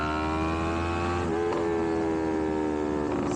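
Yamaha MT-03 motorcycle with an aftermarket exhaust revs loudly and close, a steady throaty engine note with a few sharp pops and crackles breaking through.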